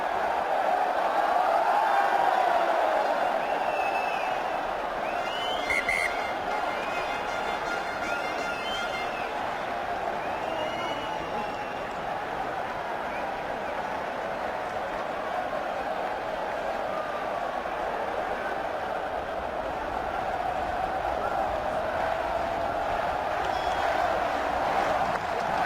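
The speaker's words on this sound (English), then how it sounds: "Toulon crowd ramping up the noise in the Stade Felix Mayol." A large rugby crowd at the Stade Felix Mayol in Toulon, during a Toulon versus Montpellier match, keeps up a steady, dense roar of noise with no let-up, and a commentator's voice rides over it.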